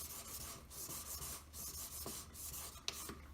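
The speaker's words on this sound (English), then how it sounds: "Keep buffing until you've got all the file marks out." A handmade wedding ring being buffed to remove file marks: a steady, close rasping rub in repeated strokes, with no talking.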